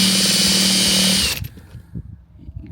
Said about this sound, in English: we'll drill out through the next one.